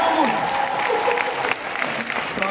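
Concert audience at Warsaw's Klub Stodoła breaking into loud, sustained applause for the parents, a dense crowd clapping throughout with faint voices mixed in.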